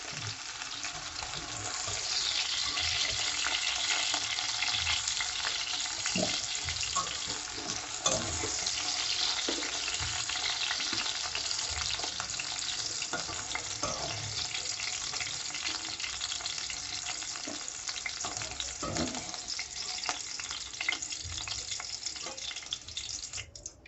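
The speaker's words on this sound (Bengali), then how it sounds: "দু থেকে 3 মিনিটের মতো আমি ভেন্ডিগুলো ভেজে নিলাম।" Okra (bhindi) fries in hot oil, a dense, continuous close sizzle with occasional stirring clicks and bubbling throughout.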